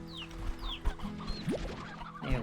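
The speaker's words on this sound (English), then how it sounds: "The chickens have their revenge by making it impossible to walk through there so they don't get eaten." Chickens clucking in the video game Slime Rancher 2, a run of short squawks and clucks from several birds close by, with a few game chimes and thumps mixed in.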